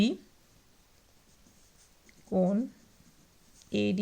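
A pen scratches softly on paper while a geometry proof about angles in a circle is written out. The faint, continuous writing sound runs between two short bursts of a voice speaking.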